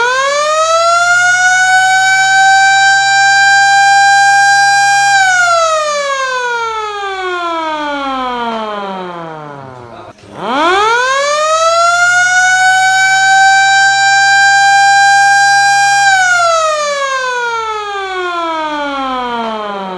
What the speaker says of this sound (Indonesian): Sampun Pak sirinenya.